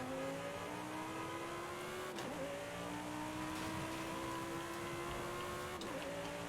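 In Forza Horizon 5, a Lamborghini Sesto Elemento's engine drones at steady cruising revs with a faint rising pitch, broken by two quick gear shifts, fairly close and with no talk.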